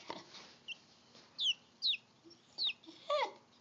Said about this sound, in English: You can't have this chicken.